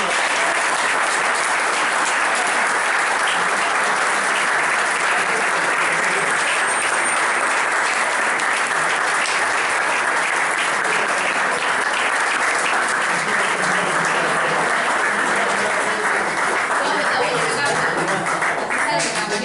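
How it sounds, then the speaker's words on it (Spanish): Sustained applause from an audience at the end of a presentation, dense, loud clapping that fills the room without pause for the full length. "vamos por ese aplauso"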